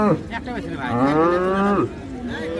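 A Friesian cow moos loudly and close by at a cattle market, one long drawn-out call with a falling end, preceded by a short grunt and followed by a fainter bellow.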